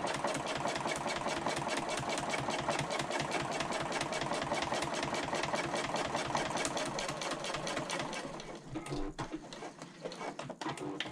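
A sewing machine stitches the slanted edges of a Solasta convertible bag along the fold, humming in a steady rapid rhythm for several seconds before slowing and stopping.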